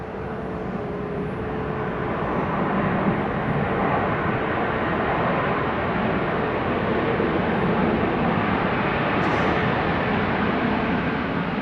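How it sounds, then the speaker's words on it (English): An American Airlines Boeing 737-800 touching down: a steady, loud broadband roar that holds for the whole stretch, with no voices over it. "It is American Airlines 638. Another 737-800. That one touching down already."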